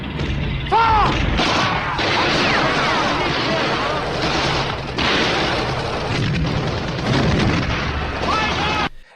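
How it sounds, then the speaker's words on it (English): A PIAT rocket launcher fires and explodes in a loud, dense battle scene, with continuous booming blasts and mechanical clatter and voices faintly mixed into the din. "it's a Piat rocket launcher."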